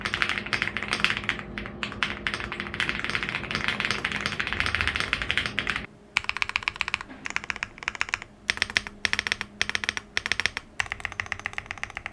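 Fast, continuous typing on a Lucky65 v2 mechanical keyboard fully dampened with Poron plate foam, PE foam, a PET sheet and sponge-like case foam. The dense, muted keystrokes break briefly, then resume in irregular bursts, close and alone.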